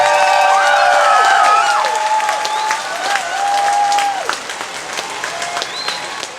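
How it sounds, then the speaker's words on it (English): Applause at a 2019 high school graduation held at an equestrian center, loud clapping mixed with whoops and cheers that thins out and grows quieter over the final seconds. "Please, a round of applause for them and their staff."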